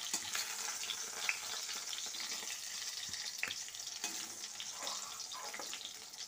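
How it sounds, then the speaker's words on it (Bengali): Beans, eggplant and potatoes frying in oil for a Bengali fish curry with winter vegetables, a steady close sizzle running throughout with occasional clicks of stirring, no talking. "শিম, বেগুন ও আলু খুব ভালোভাবে ভাজা হয়ে গেছে"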